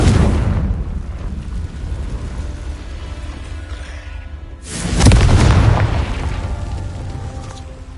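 Two booming Confringo spell blasts in the video game Hogwarts Legacy hit at the start and midway, each a loud, deep explosion with a rumbling tail that fades slowly.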